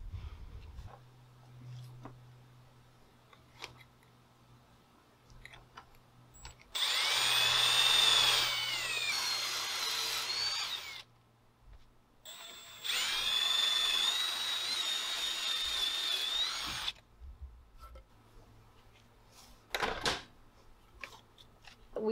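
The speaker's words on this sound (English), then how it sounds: "I'm going to be making some pocket holes in my wood" A power drill boring pocket holes in wood, two loud whining bursts of several seconds each separated by a short pause, close up, with quiet handling sounds before and after.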